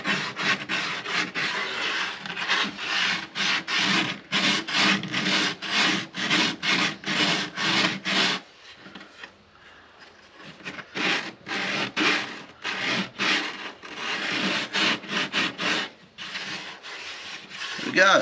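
Sandpaper rubs back and forth over the wooden soundhole edge of a Martin D-35 acoustic guitar, rhythmic close scratchy strokes with a brief pause midway before the sanding resumes.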